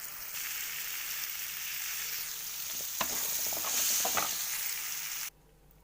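Chopped vegetables hitting hot oil with turmeric for hotel-style sambar, a loud continuous sizzle with a few scraping stirs in the middle, cutting off abruptly near the end; no voices.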